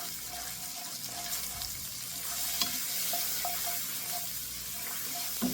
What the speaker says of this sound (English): You add all of it and saute it in the curry as well.